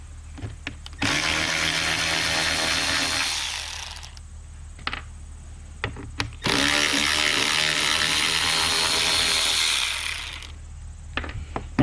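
A power drill runs in two long bursts backing self-tapping screws out of a Nissan Altima radiator fan assembly, a loud whirring grind with short clicks between runs and no talk.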